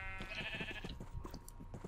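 Sheep bleat in a Minecraft sheep pen, with several wavering, nasal bleats overlapping close by against a quiet game background.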